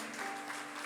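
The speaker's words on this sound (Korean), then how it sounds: "우리 박수로 좀 격려하도록 할게요." Church congregation applauding during a Sunday worship service, a steady, dense patter of clapping hands filling the room for just under a second.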